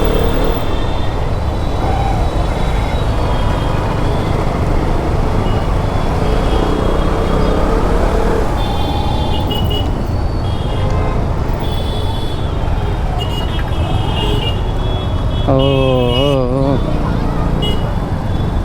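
Busy road traffic near a school fills the scene with a steady, loud rumble of cars, buses and motorbikes passing close by. A horn sounds near the end, and voices talk over the din.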